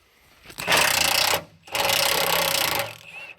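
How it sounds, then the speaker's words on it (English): A Milwaukee Fuel 18V 1/2 inch impact driver hammers at an old, seized bumper bolt in two loud, close bursts, a short rattling blast and then a longer one, separated by a brief pause. "We're gonna see if it'll break that bolt and that bumper."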